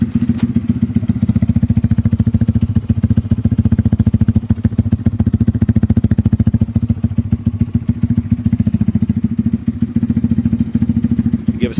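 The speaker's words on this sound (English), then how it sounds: "it idles way louder" A 2022 Lifan KP200 motorcycle with a modified exhaust idles close by, a loud, steady, rapid thumping pulse that runs evenly throughout.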